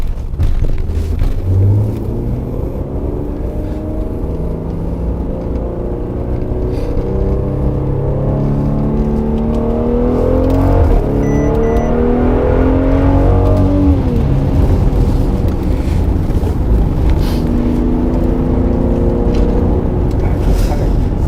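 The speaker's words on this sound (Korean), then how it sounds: "RPM 팍 잦아들면서 살짝 팝콘 사운드 비슷한 기분 내주네" A Mercedes GLC43 AMG engine pulling through the revs while driving in Sport Plus mode. The engine note climbs and falls in sweeping tones over steady road and wind rumble, loud and up close inside the car.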